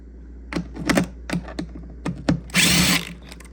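A power driver works on the factory airbox of a Chevy Cruze to free the MAF sensor, giving several short, close bursts of whirring followed by a longer, louder run near the end.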